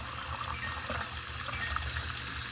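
Water runs steadily from a Samsung RF261BEAEBC refrigerator dispenser being flushed after a water filter change, a continuous close trickle and pour with no talking.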